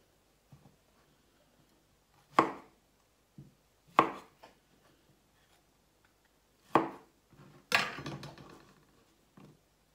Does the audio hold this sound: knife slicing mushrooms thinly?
yes